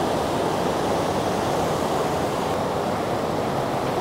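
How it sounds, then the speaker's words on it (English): Water rushes over a weir at Aranjuez, Spain, in a dense, constant roar, loud and close with no pauses. "sort of waterfall that we're heading towards now. It's a weir."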